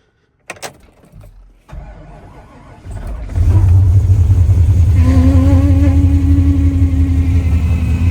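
A diesel pickup truck cold-starts at zero degrees: a few clicks and a short crank, then the engine catches and settles into a loud, steady idle close by, with a faint whine on top.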